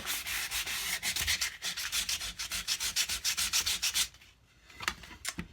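A carved wooden neck being hand-sanded in quick, rhythmic back-and-forth strokes, close and loud. The strokes stop after about four seconds, leaving a few faint scrapes.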